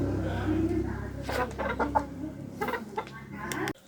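Hens cluck in short, irregular bursts close by, with a low steady hum underneath, ending abruptly.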